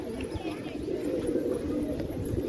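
Pigeons coo in a soft, low, steady murmur that runs continuously at close range, with a faint background hum and no voices.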